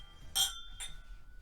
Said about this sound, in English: So raise your glass and cheers to Jesus.